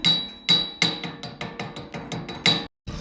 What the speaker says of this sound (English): Now, chip off the slag.